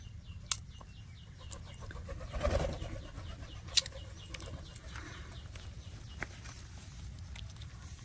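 White pigeons in their home setup give soft, faint cooing amid a few sharp knocks and light shuffling, quiet and somewhat distant, with no voices.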